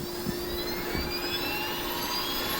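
A Fly Wing FW450L V3 large RC helicopter motor spools up with a steady, whining high-pitched tone and rising harmonics over a constant airy rush, heard alone at moderate distance.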